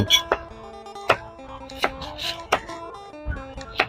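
A knife chops banana blossom on a cutting board in about six sharp, uneven strokes, with quiet tonal background sound between the cuts.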